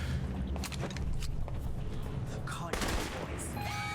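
Gunfire from the stealth shooter video game Alpha Protocol crackles in a fast burst of shots at moderate volume, followed by a sharper impact near the end, with a voice talking over it.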